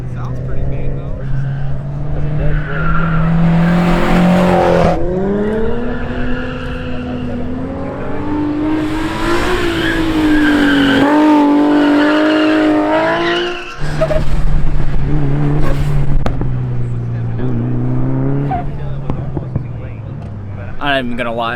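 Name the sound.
race cars at Buschur Shootout drag race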